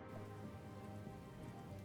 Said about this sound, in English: it's raining in Derail Valley